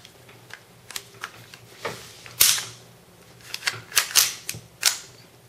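Plastic clicks and snaps from a KWA Sig Sauer P226 airsoft pistol being field stripped, a series of sharp, close mechanical clacks spread irregularly with a louder slide snap midway.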